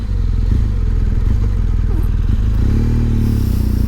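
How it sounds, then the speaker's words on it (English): A BMW R1 motorcycle engine idles with a deep, steady rumble, then revs up briefly, the pitch rising before settling again, close and loud throughout. "So let's see if we can get some of the sound from the engine."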